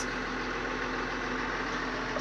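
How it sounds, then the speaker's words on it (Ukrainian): A John Deere 6920S tractor engine runs steadily at close range during spring plowing of fields, a continuous even drone with a low hum and no breaks for the whole stretch. "Працюю на трактор John Deere 6920S."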